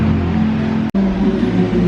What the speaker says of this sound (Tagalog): ang ingay ng motor na yan